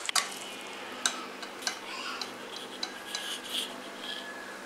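A ladle scraping and clinking in a pan while mixing thokku, a spiced Tamil relish cooked in oil, irregular light metallic taps and scrapes over a faint steady hum.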